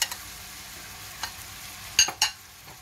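Kofta meat being mixed with black pepper and other spices gives a few soft squelching and scraping sounds over a quiet background, with two quick bursts close together near the end.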